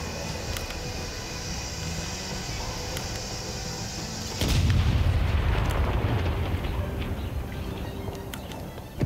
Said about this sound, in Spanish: El cañón empieza a cargar y va a disparar.